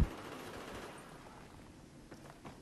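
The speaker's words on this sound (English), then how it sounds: "Damn it, I'm being shot at." Gunfire in Battlefield 3 cracks at the player in faint, distant bursts of rapid shots, with a few sharper reports near the end over low background rumble.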